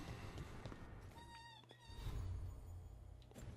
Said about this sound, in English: got a kitten sitting on me, and then they get up